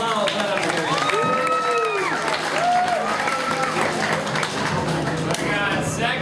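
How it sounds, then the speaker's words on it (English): A crowd at a lumberjack competition claps steadily while voices shout and cheer over it, loud and close, with lively chatter throughout. "Round of applause."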